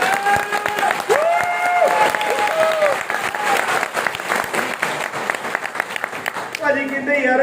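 Audience clapping at a motivational talk, a dense burst of applause mixed with a sustained musical tone and voices, ending as speech takes over.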